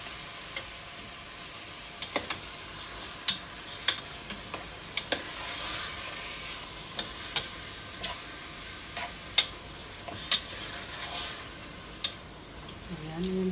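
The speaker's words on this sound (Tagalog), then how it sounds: "At habang ginigisa po natin ang ating chicken, maglagay na po tayo dito ng patis." Chicken sautés in a pot for tinola soup, a steady sizzle with sharp ticks and clinks of a utensil stirring against the pot, close by.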